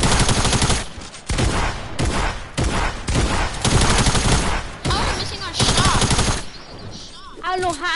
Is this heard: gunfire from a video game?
yes